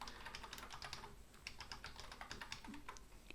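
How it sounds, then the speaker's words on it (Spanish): Rapid, steady keystrokes clatter on a gaming keyboard with closely spaced keys, a continuous run of close clicks with no talking over them. "es que tengo un teclado gaming"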